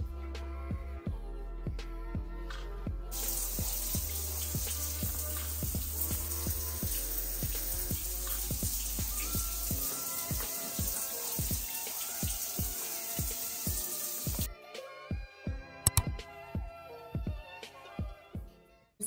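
Shower water running steadily while hair is washed, a loud, dense spray that continues for about eleven seconds and then stops, leaving scattered small knocks and drips.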